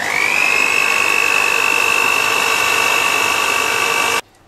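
An electric mixer runs steadily at low speed, beating cocoa powder into a cake batter for a Black Forest gâteau, with a constant loud whirring hum and no talk, until the motor cuts off abruptly near the end.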